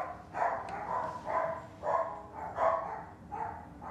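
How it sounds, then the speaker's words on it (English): Dogs barking in a repeated series of about six muffled, fairly distant barks at a steady rhythm, with no talk. "I guess that got the dogs a little excited as well."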